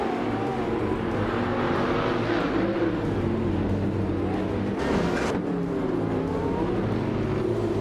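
Race cars in a racing game, engines droning loud and continuous with rising and falling pitch as they accelerate off the line, a brief rushing burst partway through.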